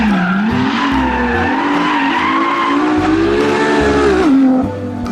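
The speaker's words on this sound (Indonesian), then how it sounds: "Ada mobil balap." A red toy race car plays a loud, continuous tire-squealing skid effect with wavering pitch for several seconds, then cuts off abruptly near the end.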